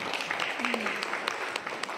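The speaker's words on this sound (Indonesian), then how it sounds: "tepuk tangan buat beliau" Brief, fairly steady applause from an audience at an Indonesian ministry address, honouring an alumnus standing up, with a short vocal sound rising briefly partway through.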